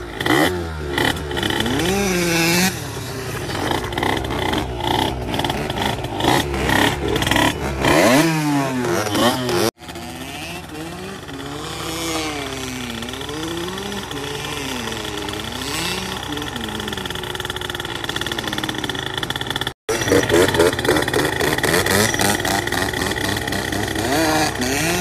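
A small 50cc moped engine, bored out to 94cc on an AM6 base, runs loudly and steadily nearby, its buzzing pitch rising and falling with throttle changes, with brief cuts in the sound.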